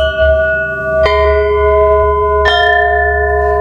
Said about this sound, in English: Burma bells are traditionally struck with a wooden mallet and struck on the corner.